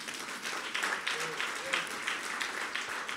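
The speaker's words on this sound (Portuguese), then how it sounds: "Você pode aplaudir a Jesus por isso?" Church congregation applauding during a Portuguese-language worship service, a steady wash of clapping throughout with voices mixed in underneath.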